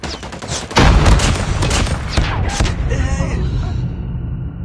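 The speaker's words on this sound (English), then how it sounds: "Grenade out!" A grenade blast goes off in the shooter game COD Mobile, a heavy boom amid rapid gunfire bursts. The shots continue briefly, then the sound fades into a quieter tail.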